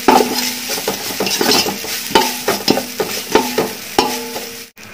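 Three onions, already sautéed, are stirred in a pan for vegetable biryani, with repeated rhythmic scraping strokes of a utensil against the pan over a soft sizzle, loud and close.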